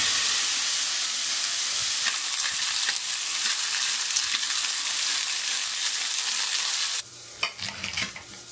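Porterhouse steak sears in a hot pan, a loud steady sizzle and hiss running throughout, with a sharper burst of crackling and clatter near the end.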